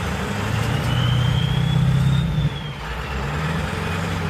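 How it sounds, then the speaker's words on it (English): A truck pulling away in drive, its engine droning steadily and rising in pitch as the transmission works from first toward second gear, then dipping briefly partway through as the shift happens and carrying on. "if I take off, this is in first gear, so if I do this, it should shift to second"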